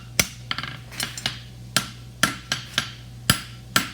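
Hammer blows ringing on hot steel against an anvil while forging a roadster toe bend, about a dozen sharp loud metallic strikes in an uneven rhythm, some in quick doubles, with no talk.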